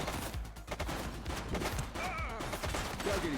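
Gunfire in the police video game The Precinct, a rapid burst of close shots packed together over the game's ambient noise, with other game effects rising and falling underneath.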